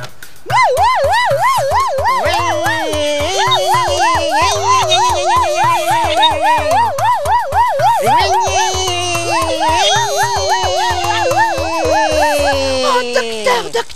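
A loud wailing siren cycles rapidly up and down, repeating continuously with a steady background tone underneath, close and prominent throughout.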